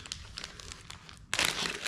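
Little plastic bags holding fishing baits crinkle as they are opened, light scattered rustles giving way to a louder, denser crackle near the end, close and with no talk.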